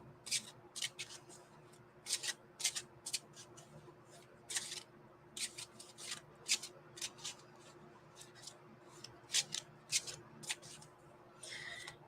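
A deck of cards is shuffled and handled at close range during a spirit-message reading, giving repeated bursts of crisp riffling and flicking in irregular rhythm over a quiet, humming room.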